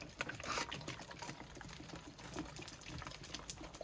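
Water pours steadily from a 25 mm pipe into a plastic bottle rabbit waterer, a splashing trickle, fairly quiet and continuous, with no voices.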